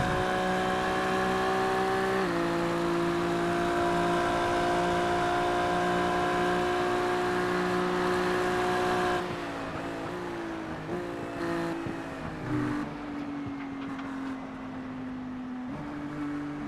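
A race car engine in a racing simulator at Daytona: a steady, loud, droning whine held for long stretches, with pitch drops as it shifts or slows. It grows rougher and less even toward the end.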